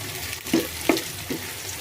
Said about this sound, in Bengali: রসুনটা লাল লাল করে ভেজে নেওয়ার সময় আমি এখানে কাঁচামরিচ দিয়ে দিচ্ছি